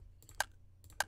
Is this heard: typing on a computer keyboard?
yes